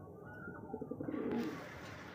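Soft, rhythmic cooing of a Tokki pigeon in a few low, throaty pulses, fairly close, with faint background noise and no talking.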